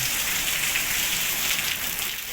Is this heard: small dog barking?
no